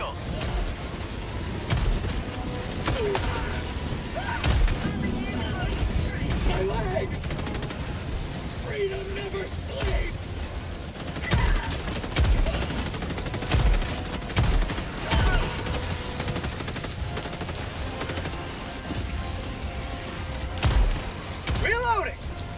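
Slugger shotgun blasts in Helldivers II, scattered sharp shots and booms under a busy battle mix, with several people talking over the action.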